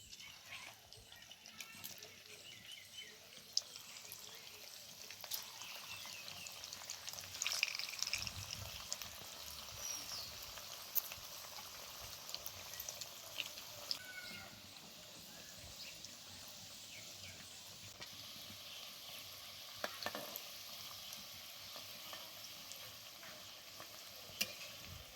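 Potato samosas fry in a wok of hot white oil, giving a steady, dense sizzle and bubbling that holds for the whole stretch, with occasional faint clinks and no talk.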